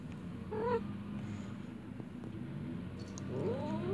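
A cat growls low and continuously, breaking into a couple of short meows and wavering cries, while another pet stays nearby; the sounds are faint and close, with no talking.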